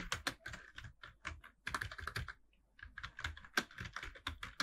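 Fingers type on a computer keyboard in quick, uneven bursts of crisp clicks, a brief pause in the middle, keys close and loud with no talking.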